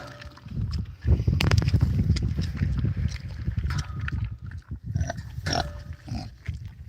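Charlotte, a mother pig, and her piglets grunt and snuffle close to the microphone in a busy, uneven stream of low rooting noises, with occasional sharper squeals and bumps.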